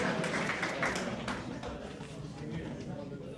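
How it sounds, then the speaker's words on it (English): Big round of applause from an audience at a live fireside exchange event, dense steady clapping mixed with chatter and voices throughout. "Big round of applause"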